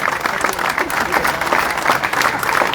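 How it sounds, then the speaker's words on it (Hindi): Steady, dense applause from a crowd, many hands clapping continuously at a constant loud level throughout. "जोरदार तालियां बजाएं, जोरदार तालियों से तालियां बजाएं"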